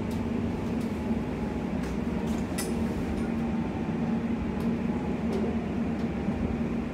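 A TfL Rail train at Goodmayes station in London gives a steady low rumble with a faint hum, punctuated by a few light clicks and clatters, heard from inside or near the train with no talking.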